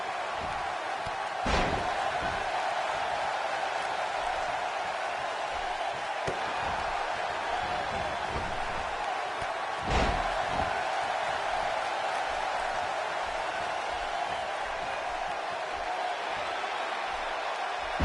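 A constant roar of a large arena crowd in a wrestling video game, with occasional sharp slams cutting through, steady and wide throughout.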